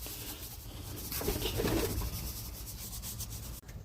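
Scraping and rubbing of white sand across the floor of a pigeon box, a close gritty shuffle that swells in the middle, with pigeons cooing softly in the background.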